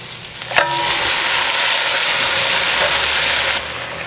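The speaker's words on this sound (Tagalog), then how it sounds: "igigisa lang natin hanggang mag-brown yung ating chicken" Chicken sautés in a pan with garlic and onions for tinola, a loud continuous sizzle opening with a sharp metallic clink.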